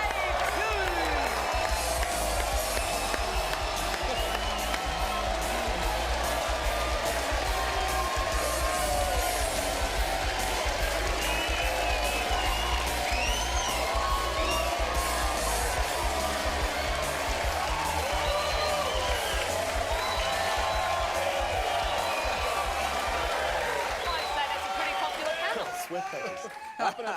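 Studio audience at a live football TV show applauding and cheering the panel, a dense, loud, continuous roar of clapping and whoops that carries on steadily for the whole stretch, with some voices mixed in.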